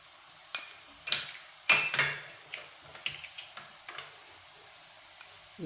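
Chili and fenugreek powder stirred in hot oil in a pan for ginger-mango pickle: soft sizzling with scattered scraping and clinking of a spoon against the pan, several sharper taps, and no voices.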